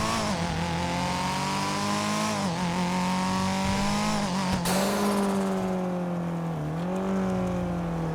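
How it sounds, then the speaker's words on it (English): A Nissan Silvia S15 sports car engine in GTA 5 drones steadily at high revs, its pitch rising and dipping with shifts, loud and close without pause. "you can't mistake the sound of this car for anything"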